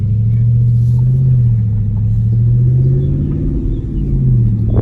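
A Dodge Charger Scat Pack drives in track mode, its engine holding a loud, steady low rumble throughout with slight rises and falls in pitch, close and continuous with no talking.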